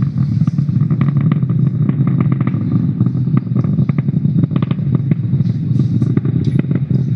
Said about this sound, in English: we've throttled down our engines in preparation for Max-Q